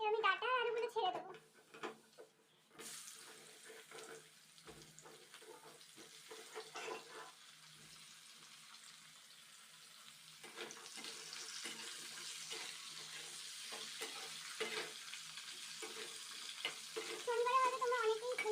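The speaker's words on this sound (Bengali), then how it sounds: "এবার আমি ডাঁটা আর আলুগুলো ছেড়ে দেবো।" Drumstick stalks and potatoes drop into hot oil with panch phoron in a kadai, setting off a steady, hissing sizzle. Brief speech is heard at the start and end.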